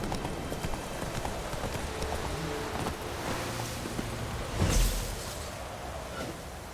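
Roach, a horse in The Witcher 3 video game, gallops with steady rhythmic hoofbeats under wind and rustling, a louder thump near the end.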